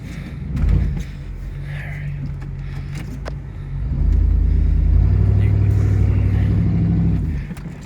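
A 4x4 truck spins its wheels in snow during a snowstorm, a loud low rumbling engine rising and surging as the tires churn, with a thump near the start.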